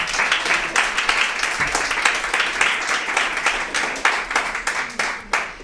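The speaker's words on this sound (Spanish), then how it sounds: "Denle un aplauso al Señor fuerte." A church congregation claps loudly and steadily during a sermon, dense continuous applause sustained throughout with no speech over it.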